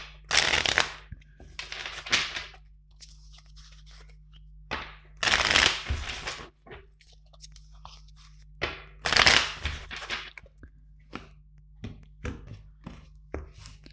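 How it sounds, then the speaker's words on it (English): Tarot cards being shuffled by hand, several separate bursts of crisp riffling and slapping close up, with quiet pauses between them. "let's shuffle four times"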